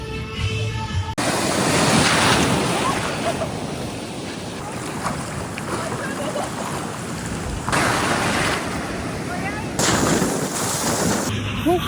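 Heavy waves breaking on a flat, stoneless sandy beach, a loud continuous roar of surf with surging swells and buffeting wind noise, no voices.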